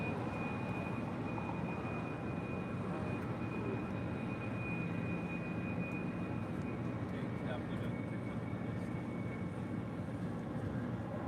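A Boeing 787 Dreamliner departs LAX for Paris, its jet engines a broad, distant roar that holds steady across the airfield without letting up.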